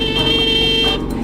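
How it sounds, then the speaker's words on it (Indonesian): A car horn blares in one loud, steady, sustained honk in Jakarta traffic, cutting off after about a second. "Ayo klakson."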